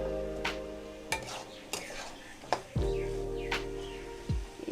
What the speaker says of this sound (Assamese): আৰু এনেদৰে মই আৰু অলপ সময় ভাজিম।